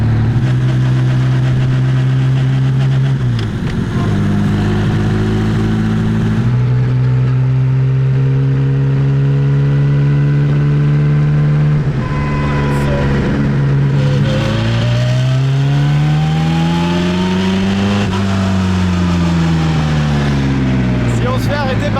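A vintage Bugatti Type 35 engine drones loudly from close by as the car drives, its pitch rising and falling through several gear changes, with voices talking over it at times.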